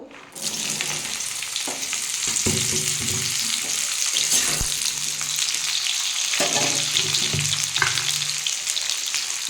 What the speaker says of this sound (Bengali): আমার তেলটা গরম হয়ে গেছে আমি এর মধ্যে আবার ফুলকপিগুলো ভেজে নেবো